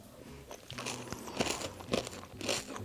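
Crispy vegan protein cereal crunches in a mouth up close, a run of irregular, sharp chewing bites, fairly quiet and with nobody talking over them.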